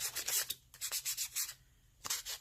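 A small square of sandpaper rubs over an Easter egg in quick repeated strokes, a close, dry scratching rasp in short back-and-forth bursts with a brief pause before the last few strokes.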